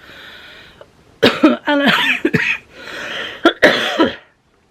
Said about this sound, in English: and had a coughing fit